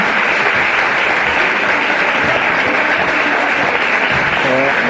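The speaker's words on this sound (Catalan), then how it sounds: "agafem aire per rebre un fort aplaudiment." Steady, dense applause from a live audience at a book event, loud and continuous throughout with no pauses, and a brief voice surfacing near the end.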